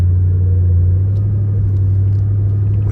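A turbocharged Ford Crown Victoria's engine rumbles deep and steady while driving, a loud continuous low drone heard close from inside the car with no talking.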